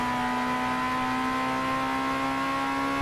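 Turbocharged Honda car engine in the racing game Gran Turismo 6, a steady droning hum with a strong whining tone held at constant pitch, loud and unbroken throughout.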